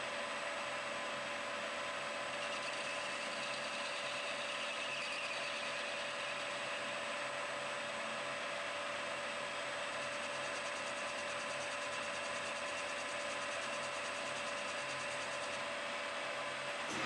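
A 90-degree four-flute carbide spotting drill cuts a dimple into a piston on a lathe, giving a steady, continuous whirring machining drone with a faint high whine, close and alone for the whole stretch.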